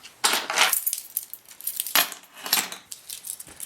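Keys on an everyday-carry keyring holding a Swiss Tech key tool jangle in two close, bright metallic bursts, followed by softer clinking and rattling.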